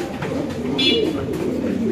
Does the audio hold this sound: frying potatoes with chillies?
no